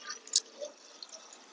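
Water poured into a clay pot holding elephant yam pieces with salt and turmeric for boiling, heard as a few soft splashes and drips, faint and close, with one brief brighter splash.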